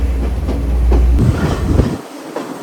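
A train in Sri Lanka running on its tracks, a close, loud rattling rumble with rhythmic wheel clatter over a few seconds and no talking.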